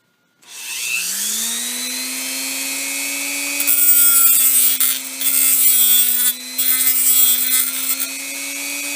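A small rotary power tool spins up and grinds down the metal center tab of an N-channel MOSFET, a close, steady whine with bursts of louder abrasive cutting as it bites into the tab.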